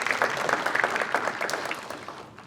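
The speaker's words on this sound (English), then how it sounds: "Give them another round of applause." Warm round of applause from a crowd at an outdoor community campfire kickoff, steady clapping that gradually thins and fades toward the end.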